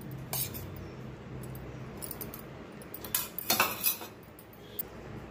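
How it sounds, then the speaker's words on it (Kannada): A spoon scrapes and clinks against a metal vessel while grated coconut is added for a Ganesha Chaturthi offering dish, with a few sharp taps near the start and a louder cluster of clinks midway, close and otherwise quiet. "ಕಾಯಿತುರಿ ಹಾಕ್ಕೊಳ್ಳೋಣ."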